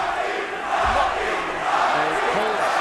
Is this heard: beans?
no